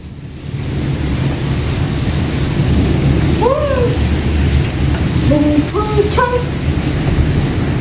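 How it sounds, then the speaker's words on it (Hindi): Heavy rain pours in Pakistan, a dense continuous roar close by and constant throughout, broken midway by a few short rising chirps. "बारिश तो मुसलसल बढ़ती जा रही है"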